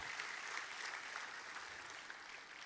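A congregation applauds during a church service, a continuous, fairly faint rush of many hands clapping heard at a distance, steady throughout with no voices over it.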